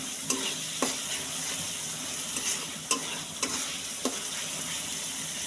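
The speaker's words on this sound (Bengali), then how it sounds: "এর ভিতরে আদা রসুন জিরা ধনিয়া বাটা, আদা রসুন বাটা, পেঁয়াজ, হলুদ মরিচ গুঁড়া মশলা সব দিয়ে কষে নিচ্ছি" Ginger-garlic, cumin and coriander paste with onion, turmeric and chilli powder frying in a pan, a steady close sizzle broken by several sharp spatula taps and scrapes at irregular intervals.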